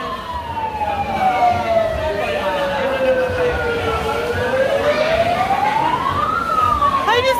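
A loud wailing siren sweeps slowly down and back up in pitch, steady and close, over a constant rumble of background noise at a street parade in Manila.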